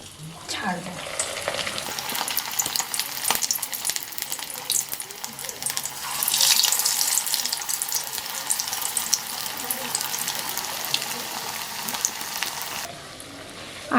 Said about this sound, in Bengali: গ্যাস কম করে এতক্ষণ ভাজছিলাম